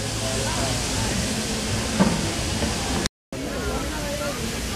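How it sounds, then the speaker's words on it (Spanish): A waterfall rushes just behind, a constant broad roar of falling water heard under nearby talking voices, with a brief dropout of sound near the end. "Se oye el ruido de una cascada de agua, la tenemos ahí detrás."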